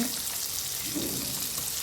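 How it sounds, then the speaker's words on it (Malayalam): Fish sizzles and crackles in hot oil, a steady close frying hiss with no talking. "അടുത്ത സെറ്റ് മീൻ വറുത്തുകൊണ്ടിരിക്കുന്നു"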